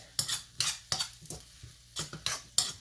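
Chicken patty filling seasoned with sugar and crushed black pepper is stirred in a pan with a spoon. About eight sharp scraping strokes come at an uneven pace over a light sizzle, close and with no talk.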